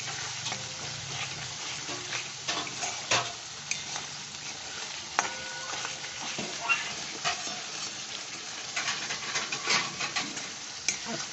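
Cashew paste frying in oil for doi chicken, sizzling steadily while a spatula stirs and scrapes the pan in repeated soft strokes, close and moderately quiet, no voices.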